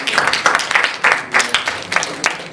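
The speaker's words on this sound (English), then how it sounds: "Can we give a round of applause to Sean and Michael for coming out tonight?" Scattered clapping from a small audience, uneven bursts of hands rather than a steady roar, moderately loud and continuing throughout.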